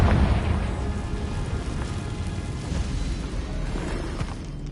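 A Confringo blast spell goes off in Hogwarts Legacy, opening with a heavy boom and then a sustained, rumbling low roar that slowly fades, with no talking.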